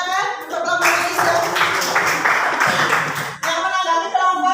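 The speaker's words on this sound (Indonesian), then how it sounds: "tepuk tangan untuk kelompok Iza." Classroom applause for a student group at a junior high school Indonesian lesson: a sustained burst of many hands clapping together for several seconds, close and fairly loud, with voices before and after.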